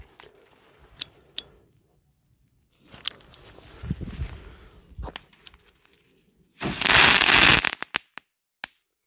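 A Doom Crackling Ball firework bursts into a dense, loud crackling that lasts about a second, followed by a few scattered sharp pops, with scattered clicks and rustling before it.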